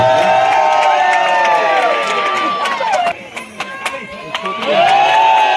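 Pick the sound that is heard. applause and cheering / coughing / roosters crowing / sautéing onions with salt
applause and cheering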